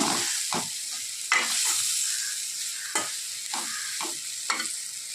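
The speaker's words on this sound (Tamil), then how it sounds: "அதோட தேங்காயை சேர்த்து நல்லா வணக்கிடுங்க" Grated coconut sizzles steadily in a hot pan while a spatula scrapes and stirs it in repeated strokes, close and clear.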